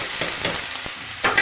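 Spice paste hitting hot oil in a pan with bay leaf and split green chilies, a continuous close sizzle with a few sharper spatters and stirring scrapes, no voices.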